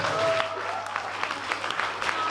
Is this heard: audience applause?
yes